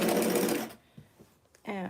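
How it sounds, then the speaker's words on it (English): A sewing machine runs a straight stitch through T-shirt knit fabric in a loud, steady burst, then stops. A few faint clicks follow before the motor starts again at the end. "we are good to just sew a nice long straight stitch"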